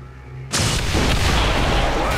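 A claymore blast detonating a purifier in XCOM 2 hits after a quiet half second, a loud, sudden boom that rolls straight into a sustained, dense rumble of explosion and debris.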